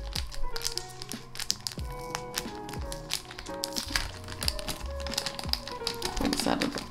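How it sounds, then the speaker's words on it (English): A plastic sleeve crinkles and crackles as a Sanrio card for a Tamagotchi Smart is unwrapped, a run of close, light rustles and taps over soft background music. "Pull this out of the plastic sleeve."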